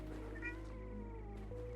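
A single drawn-out cat meow in the video game Daemonologie over a steady low electronic hum, lasting just under two seconds.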